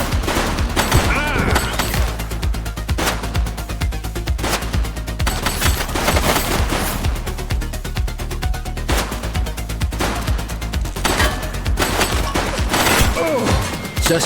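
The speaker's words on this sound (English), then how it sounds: "He's shooting!" Rapid bursts of gunfire ring out in a police shootout in The Precinct video game, sustained automatic fire and repeated shots over a constant rumble of music and effects, with a voice heard briefly.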